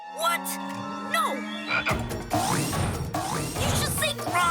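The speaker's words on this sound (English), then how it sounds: "I want a mega dino, not a mega frog!" A cartoon robot dinosaur lets out loud, warbling frog croaks in repeated bursts, mixed with whirring, ratcheting mechanical clanks and gear noises, then a rising, sweeping electronic croak near the end.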